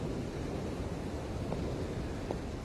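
Steady wind rushing across a golf course in a VR golf game, a dense, even broadband roar that holds level throughout with no voices over it.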